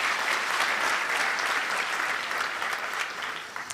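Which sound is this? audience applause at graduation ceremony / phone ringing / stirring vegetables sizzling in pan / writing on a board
audience applause at graduation ceremony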